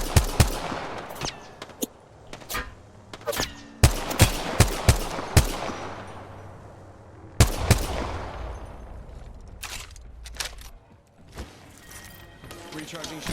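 Rapid bursts of gunfire in the shooter Apex Legends, loud and dense with repeated sharp cracks, short pauses and echoing tails throughout.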